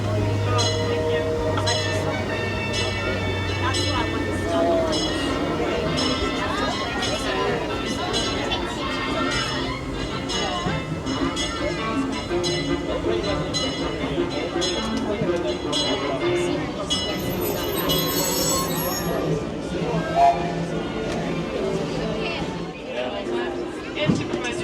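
The Disneyland Railroad train rumbles along its rails with steady clatter, while crowd chatter and background holiday music fill the space around it.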